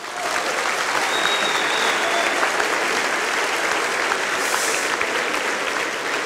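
Sustained, dense applause from a large gala audience in a hall, steady and loud throughout with a faint murmur of voices underneath.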